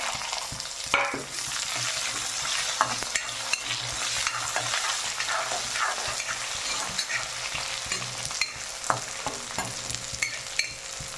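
Chopped eggplant with dried berries and pepper sautés in a pan, a constant close sizzle broken by repeated scraping stirs and small knocks of the spoon.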